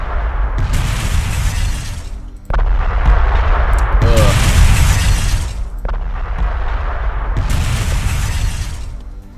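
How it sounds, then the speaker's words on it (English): Mortar shells exploding in the video game Convoy: three heavy blasts in a row, each a sharp booming burst that decays into a rumbling tail before the next one lands. "Those mortar shells."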